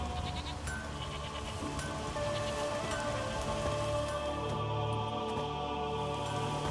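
Steady rain falls across an open village scene in The Witcher 3, a dense continuous hiss with faint drips, layered under quiet ambient background and occasional animal bleats.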